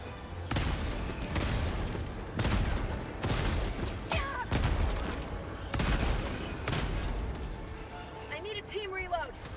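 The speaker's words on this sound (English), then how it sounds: "Oh my god, I got an auto cannon." Heavy autocannon fire in the Helldivers 2 shooter: loud, booming bursts of shots repeat every second or two, with game chatter and effects underneath.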